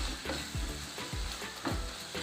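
Well-cooked tomatoes being turned in a frying pan for pork wet fry, a steady sizzle broken by repeated scraping stirs about every half second, close up with no talk.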